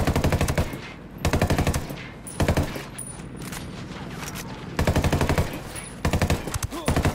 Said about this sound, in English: Right, the minigun's out.